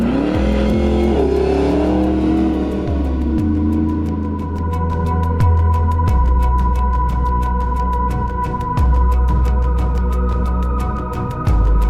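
A deep LT4 V8 engine in a restored Land Rover Defender 110 revs up and down repeatedly, loud and close, with rising and falling pitch over a steady rumble.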